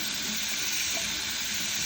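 Running tap water rinses drained canned chickpeas in a sink, a steady close rush of water with no pauses.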